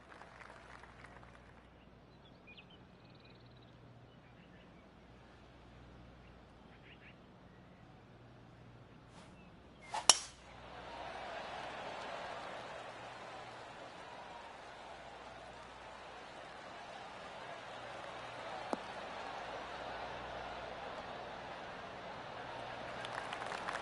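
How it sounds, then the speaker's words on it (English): Polite golf-gallery applause in the PGA Tour 2K23 video game: a soft, steady patter of clapping that swells in after a sharp click and keeps going at a modest level, with a commentator's voice now and then. "Oh, golf clap."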